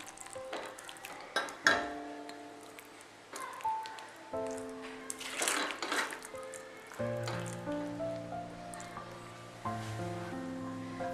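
Cooked Kerala chicken peralan scraped from the pan into a serving vessel, with irregular spoon clinks and scraping and a few sharp knocks against metal, heard close over faint residual sizzle.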